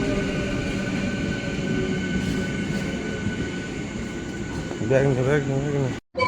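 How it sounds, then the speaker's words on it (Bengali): A Howrah–Bardhaman local train pulls into a station, its steady rolling rumble filling the scene, with rising brake squeals and wheel screeches near the end before a brief cutoff. "হাওড়া বর্ধমান লোকাল চলে এসছে"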